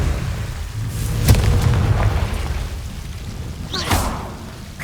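Confringo blasting spell in Hogwarts Legacy: a couple of sharp booming blasts with whooshing bursts over a dense rumbling game background, fairly loud and near.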